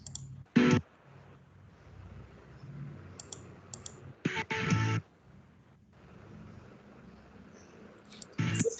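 Sharp mouse clicks on a computer while working in OpenShot Video Editor, sounding as a few brief, separate bursts over a faint steady background.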